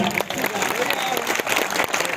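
An audience at a Minority Day tableau event in Arifwala breaks into dense, loud applause, a continuous wash of many hands clapping at once, with voices mixed in.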